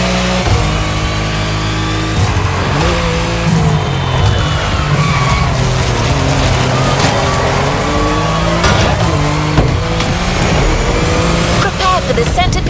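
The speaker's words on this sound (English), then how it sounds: "There's an absolute classic heading your way, a grail among collectors and Jim's greatest pride, the Mustang Boss 429." Ford Mustang Boss 429 muscle car driving in The Crew Motorfest, with a steady loud engine drone and shifting revs, tire skids mixed in, all under continuous game music and narration.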